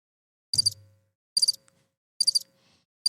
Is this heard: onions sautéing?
no